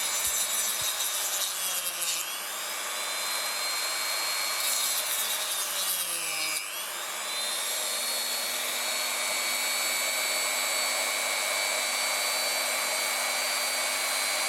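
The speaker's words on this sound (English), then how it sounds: "Therefore, the area marked in black is supposed to be sawn out." A handheld saw cuts through the stable, self-supporting base plate of a DIY RC model bus, sounding as a loud, steady rasping drone that runs almost unbroken for about fifteen seconds, with a brief pitch dip midway and no talk.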